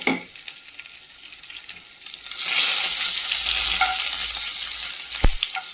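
Garlic and fresh curry leaves hit hot oil in a pan and start frying, a quiet start giving way to a loud, steady sizzle as they are stirred, with a sharp utensil knock near the end.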